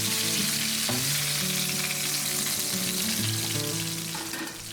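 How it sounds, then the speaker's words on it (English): Potatoes for traditional roast potatoes are carefully tipped into hot, slightly smoking fat, setting off a loud, dense crackling sizzle that holds steady close up and fades slightly at the end. "Now very carefully tip the potatoes into the hot fat. You should hear a very satisfying sizzle."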